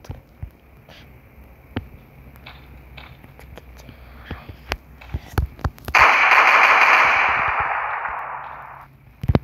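Gunfire aimed at a zombie in a virus-themed shooter, with scattered sharp shots through the first six seconds, then a dense burst of rapid fire, and a few more cracks at the end. Faint talk sits underneath.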